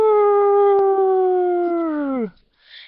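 A human voice imitates a wolf howling: one long, steady sustained note held for about two seconds before it slides downward and fades, alone and close.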